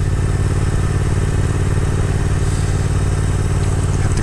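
Steady engine drone from a 2022 Triumph Speed Twin motorcycle while riding slowly through a park, a continuous loud low rumble with wind noise and no pauses.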